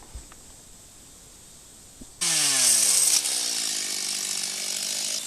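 A quiet stretch in the woods, then a chainsaw cutting a tree suddenly roars to life at high revs and keeps running loud and steady to the end.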